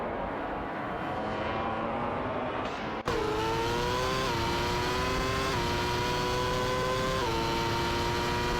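Race cars in an AI-driven racing game, including a McLaren MP421, roar at high revs, with a sudden jump in loudness as the engine note climbs and steps through gear changes, loud and sustained.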